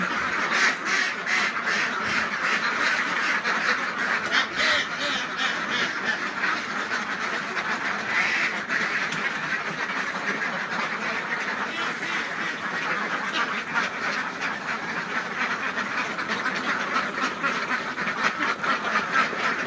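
A flock of about 700 laying ducks quacks continuously at morning feeding time, a dense, loud chorus of overlapping calls that never lets up.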